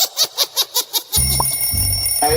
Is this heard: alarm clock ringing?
yes